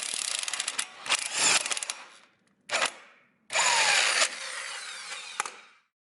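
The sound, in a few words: impact gun driving spring compressor on Honda Accord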